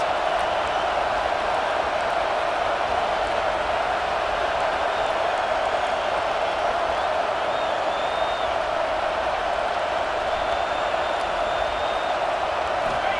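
Steady roar of a packed stadium crowd in the EA Sports College Football game, Ohio State versus Texas, cheering for the defense in the red zone; a continuous loud wash of voices with no breaks.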